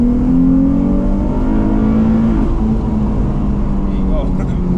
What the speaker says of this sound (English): And I hit the rev limiter there